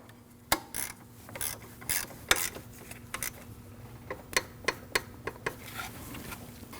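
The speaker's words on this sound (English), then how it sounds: "you want to tighten your 12mm lock bolt." A wrench clicks as a 12mm lock bolt is tightened on the serpentine belt tensioner of a 2003–2008 Subaru Forester 2.5L H4, giving a series of sharp, close ratcheting ticks at irregular intervals over a quiet background.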